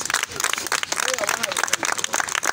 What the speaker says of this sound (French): Acclamez pour Jésus-Christ.